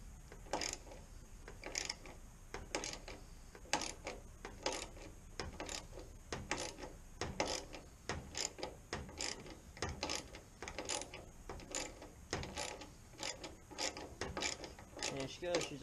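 Repeated ratcheting clicks in short bursts as a bolt is wrenched into a hole in a Ford F150 tailgate during a Dee Zee tailgate assist install, steady and close with pauses between strokes.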